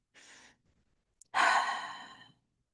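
A single person breathes in softly and then lets out a longer, louder sighing exhale, close and alone in a quiet room.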